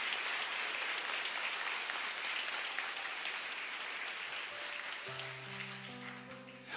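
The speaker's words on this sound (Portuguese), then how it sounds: "Pode aplaudir, é a tua igreja." A church congregation applauding during a Catholic prayer gathering, a long, even wash of clapping that carries on for several seconds before a sustained organ or keyboard chord comes in under it.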